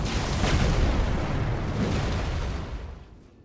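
A fully charged heavy weapon attack in Elden Ring lands with a loud, booming impact, a dense burst of crashing noise that rolls on for a few seconds before fading, with no talk over it.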